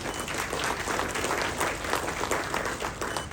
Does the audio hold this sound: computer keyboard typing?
no